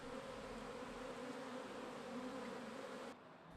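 Honey bees buzzing in Santa Ana make a dense, continuous hum, steady and soft, with a slight drop in level near the end and no voices.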